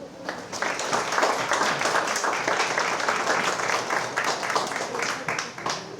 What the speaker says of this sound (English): Let's give them a round of applause again, please.